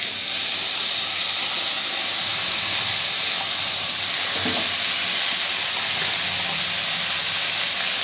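Young Malabar spinach hits a hot pan of fish-head curry and sizzles, a loud, continuous hiss of steam and frying with a brief clatter partway through.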